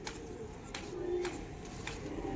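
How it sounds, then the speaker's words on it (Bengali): A malbahi pigeon coos softly in a short low murmur, with faint background noise around it. "এখন প্রচুর ডিমান্ড এই পায়রার, মালবাহী পায়রা।"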